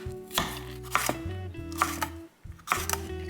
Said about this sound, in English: I have a little bit of red onions left over. This rough chop.